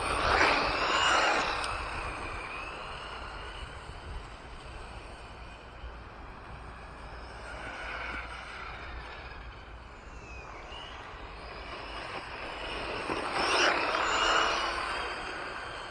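Electric RC truck running a full lap of an outdoor track on a 4S battery pack, a steady motor whine with tire and surface noise that swells loudest near the start and end as it passes close, fading between.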